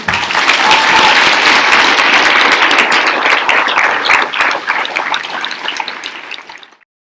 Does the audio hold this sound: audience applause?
yes